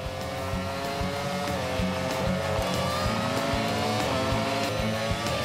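Race cars in an animated series overtaking on a track, a continuous roar of engines with rising whining tones and rhythmic mechanical pulses, loud and close throughout with no talking.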